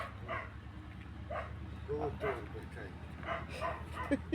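A dog gives several short yips and barks at a house where cats and dogs are being fed, moderately near, with a person talking over a low steady hum.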